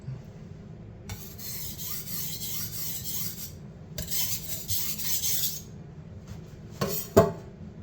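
Steel knife blade drawn repeatedly across a 1000-grit whetstone, working the tip: two long stretches of steady raspy scraping in even strokes, then brief scattered scrapes and a sharp clink near the end, close and moderately loud.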